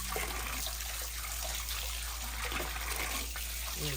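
Pieces of tilapia are washed under water, giving a steady, close rush of running and splashing water that continues throughout without a break.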